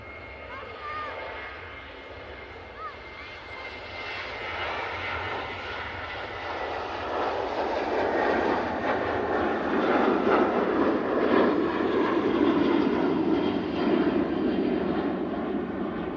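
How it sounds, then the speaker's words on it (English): Jet2 airliner bound for Venice at Manchester Airport, its engines roaring steadily and building in loudness as it moves nearby, a broad continuous rumble under faint background noise. "It is the Jet 2 to Venice."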